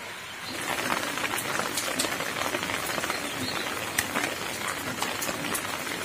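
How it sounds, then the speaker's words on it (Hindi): Rain falls steadily in a hill village, a dense, even patter with scattered sharper drops landing close by, continuous and fairly loud. "बारिश लगातार लगी है"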